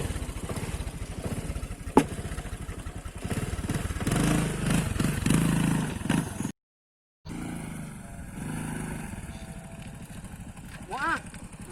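A motorcycle ridden by a learner hums along as a low, uneven engine drone beneath near-constant chatter, cutting out briefly midway before the motor and voices resume, in a Sundanese comedy sketch about a mother learning to ride.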